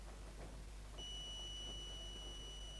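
A steady high multimeter continuity beep switches on about a second in and holds continuously to the end while testing grounds on a Sony TC-TX101 cassette deck, with faint handling noise underneath.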